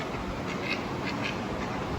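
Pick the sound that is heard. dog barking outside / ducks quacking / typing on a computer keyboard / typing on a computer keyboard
ducks quacking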